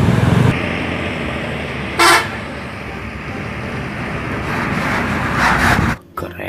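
A Tayo-style bus passes by, sounding a loud horn blast at the start and again briefly in the middle, over a continuous vehicle rumble that swells before cutting off.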